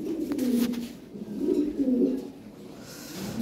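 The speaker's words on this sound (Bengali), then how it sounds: "লাল লাহোরি একটা টপ কোয়ালিটি মেল আছে।" A top-quality red Lahori male pigeon coos in soft, low, rolling phrases, three drawn-out bursts close by, with faint background noise.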